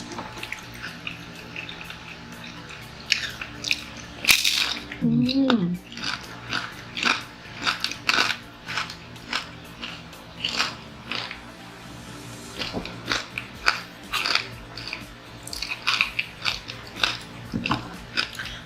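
Crunchy bites and chewing on a fried turon banana fritter during a mukbang, repeated crisp crunches close to the mic with conversation going on around them.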